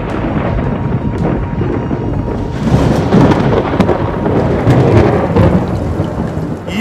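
Heavy monsoon rain in Wayanad, a loud dense downpour hissing steadily throughout, with low rumbling thunder rolling underneath and swelling midway, no voices present.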